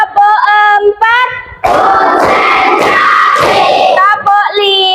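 Children in a classroom chant a rhythmic cheer, then break into a loud, dense round of clapping mixed with shouting that lasts a couple of seconds before the chanting resumes.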